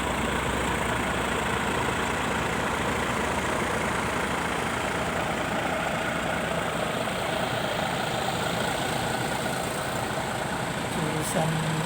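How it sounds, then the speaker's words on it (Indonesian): Hino SR2 bus engine idling at a rest area, a steady low diesel rumble throughout with people talking over it. "Mesinnya Hino SR2 MPM."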